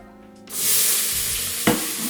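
Chopped onions hit hot oil with a sudden loud sizzle that swells and holds steady, a brief stir or clatter cutting through near the end, close and without talk, for Ethiopian dirkosh firfir.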